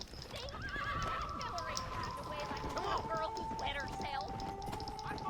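Horse hooves clip-clop in Red Dead Redemption: Undead Nightmare along with neighs and whinnies, while someone talks over the game sounds.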